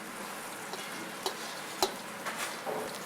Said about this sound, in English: It's good to get underneath the garlic with the spatula, turn it over occasionally so that it browns more evenly, top and bottom